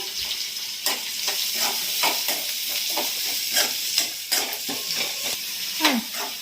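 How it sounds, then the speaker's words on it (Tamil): Sliced onion and curry leaves hit hot oil tempered with fennel seeds, crackling and sizzling up close while a spoon scrapes and stirs the pan in repeated strokes, with no talking. "வெங்காயம் கருவேப்பிலையும் போட்டுருங்க."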